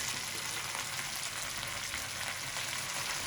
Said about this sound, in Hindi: नाज़रीन 4 मिनट हो गए हमारा गोश्त फ्राई होते हुए।